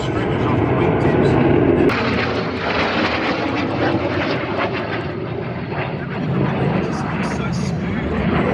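Aerobatic propeller airplane roars steadily overhead at the Richmond air show, a loud continuous engine drone with a shift in pitch partway, while a crowd and commentators talk throughout.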